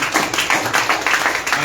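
A church congregation claps steadily in applause for the choir during a worship service, dense rhythmic clapping filling the space at moderate volume with a faint murmur of voices beneath.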